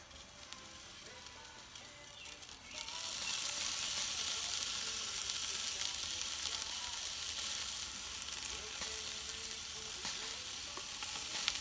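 Beer brats searing on a Weber kettle grill, a quiet crackle that swells into a loud, steady sizzle after a few seconds and holds evenly, with no talking.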